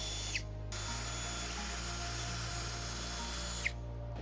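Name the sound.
drilling holes with 1/4 inch drill bit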